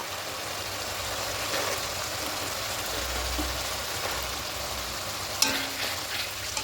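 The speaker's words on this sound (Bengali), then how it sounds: "ভালো করে দেখুন কষিয়ে নিয়েছি তেল আর মশলা আলাদা হয়ে যাচ্ছে" Spices frying in oil for a vegetarian potato and pumpkin chhokka, a continuous soft sizzle with occasional stirring scrapes and a sharp clink near the end, no talking.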